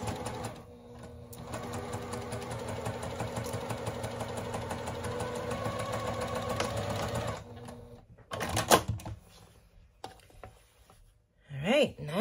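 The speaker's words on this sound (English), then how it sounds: "And sewing." Sewing machine stitching strips on a baby quilt, a steady mechanical whir with needle clatter running continuously for about seven seconds, then stopping into quiet handling sounds and a brief voice.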